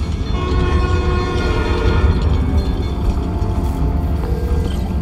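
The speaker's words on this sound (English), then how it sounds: "trusty New York subway." A New York subway train in the Spider-Man Miles Morales video game rumbles loudly and continuously, with a sustained horn-like tone layered over the heavy low rattle of the rolling cars.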